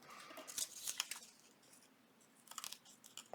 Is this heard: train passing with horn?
no